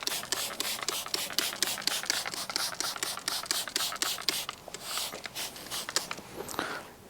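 A trigger spray bottle sprays iron remover onto a car door in a rapid series of sharp, close pumps, each a short burst of hiss, followed by a couple of slower squirts.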